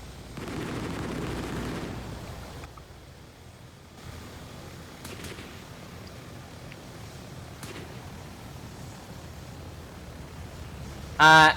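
A helicopter's turret gun fires in the Roblox shooter BRM5: a dense burst of automatic gunfire at the start, then a few sharp isolated shots over a steady engine rumble, with one loud crack at the very end.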